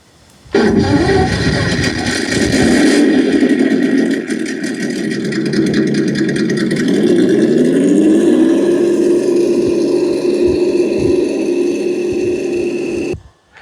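An ESS Dual sound module fitted to an Axial SCX6 RC car plays a synthetic engine rumble for about thirteen seconds, idling and then rising in pitch, loud and close with no talking.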